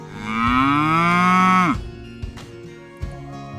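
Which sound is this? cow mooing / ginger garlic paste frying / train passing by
cow mooing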